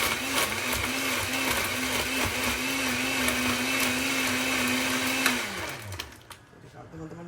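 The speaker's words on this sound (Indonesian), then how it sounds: "Oke, kita blender lagi supaya dia menjadi minuman jus yang sama." An electric kitchen blender whirring as it blends a homemade healthy juice, a loud steady motor drone that winds down and stops near the end.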